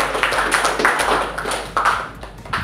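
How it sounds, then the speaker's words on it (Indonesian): A school class clapping together, a dense burst of hand claps close by that pulses in uneven waves for a few seconds. "Tepuk tangan untuk kita."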